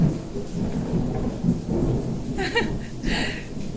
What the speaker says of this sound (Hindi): बदल गरज रहे